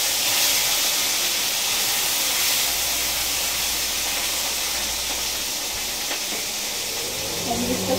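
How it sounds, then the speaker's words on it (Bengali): Fish coated in salt and turmeric frying in hot oil in a wok, giving a steady, loud broadband hiss and sizzle that runs throughout, with a faint low hum underneath. "মাছটা ভাজা হচ্ছে"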